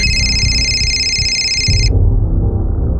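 An electronic telephone ring chirps loudly and steadily for a couple of seconds, then cuts off, leaving low background noise.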